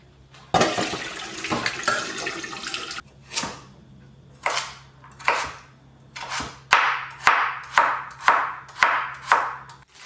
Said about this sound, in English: and then I drain it into the sieve.